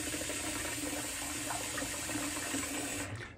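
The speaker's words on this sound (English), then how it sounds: "Get a little warmer water in here" Steady warm water runs from a tap into a shaving basin, a constant close rushing that carries on without break and fades slightly at the very end.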